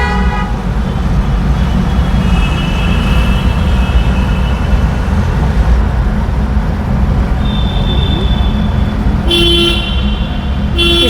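A car horn sounds briefly inside the dark Jindoli valley tunnel near Alwar, over a loud, steady rumble of the moving vehicle that fills the enclosed space, with a couple of short toots near the end.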